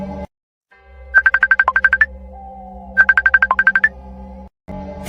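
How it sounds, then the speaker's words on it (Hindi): A mobile phone ringtone rings on a balcony in two bursts of rapid repeated electronic beeps, loud and close, separated by a short pause and framed by brief background tones. "तभी उसके फोन की घंटी बजती है।"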